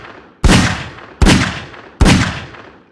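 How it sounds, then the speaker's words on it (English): Three loud, evenly spaced gunshots in Garry's Mod, each a sharp crack with a decaying tail, about three quarters of a second apart, close and with no talking. "Russia, stop shooting me!"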